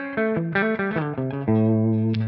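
A clean electric guitar, a Telecaster-style neck pickup through a DI capture of a clean amp, plays a short melodic phrase of single notes, bright and sustained, ending on a held low note.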